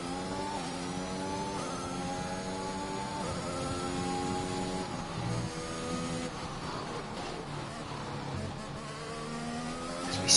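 A Formula 1 car engine in the F1 2021 racing game at Portugal screams steadily, rising and falling through gear changes, loud and continuous with no talking over it.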